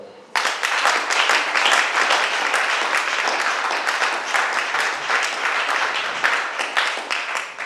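An audience at a Congolese conference event applauds steadily, dense clapping starting abruptly and continuing loud and sustained throughout, with a few cheers mixed in.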